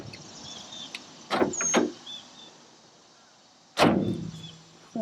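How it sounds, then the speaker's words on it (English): Doors of a rusted 1968 K20 Suburban barn find are worked open and shut, giving two close creaking, clunking bursts early on and a louder slam near the end, with quiet pauses between. "Doors open and close."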